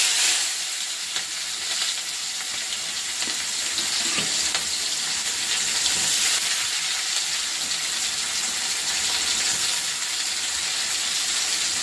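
Onion added after cumin sizzles and fries steadily in a pan, a constant bright hiss with occasional crackles, close and alone without talk.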